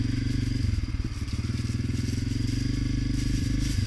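A Honda CRF250F dirt bike engine runs steadily up close, its low pulsing exhaust note loud and continuous with a brief throttle blip near the middle.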